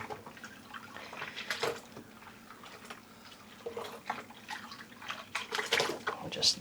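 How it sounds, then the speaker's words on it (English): Quiet sloshing and dripping water as a skein of yarn is dipped and lifted repeatedly in a small soaking tub, with a few louder splashes near the end. "I'm just dunking it in the water like that."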